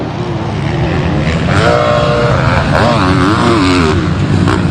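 A Yamaha motocross bike ridden by a Yamaha Racing team rider on a slippery, muddy race track, its engine loud and close with rising and falling revs as the throttle works, under an announcer's voice.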